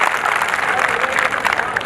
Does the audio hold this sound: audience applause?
yes